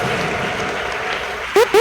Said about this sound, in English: please, a resounding round of applause to their MD, their DMD, the whole team that is here